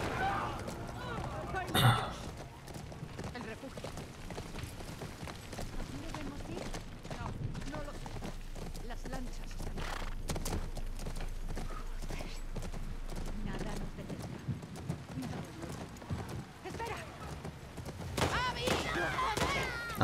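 A horse gallops in The Last of Us Part II with a steady run of hoof clip-clops, and scattered gunshots ring out in the game around it. Someone talks over the action in Spanish.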